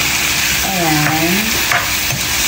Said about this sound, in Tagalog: Dapat ginigisa ng maayos kasi pork guys, hindi siya naluluto.